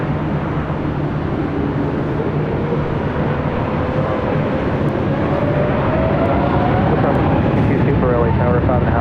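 An airplane on a runway at LAX gives a loud, continuous jet roar with a slowly rising engine tone, heard close and steady beneath voices talking.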